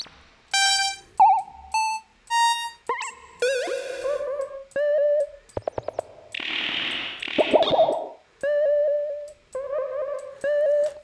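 Synplant synthesizer notes clicked through one after another, a string of short separate tones with varied timbres, some bright and harmonic, one noisy burst, each followed by silence.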